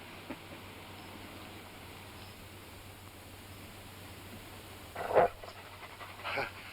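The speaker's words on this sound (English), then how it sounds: "Watch them dogs." Quiet steady background hiss with a couple of short bursts of dog panting, rapid breathy puffs, near the end.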